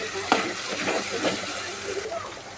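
Garlic paste being stirred into cooked onion and tomato in a pan, soft frying sizzle with a few spoon scrapes and clinks, close and fairly quiet.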